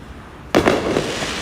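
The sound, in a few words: fireworks exploding over Brooklyn at night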